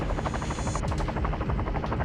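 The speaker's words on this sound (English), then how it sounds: "We hear a helicopter." A video game helicopter's rotor thumps in a rapid, steady pulse under a dense engine roar, loud and continuous throughout.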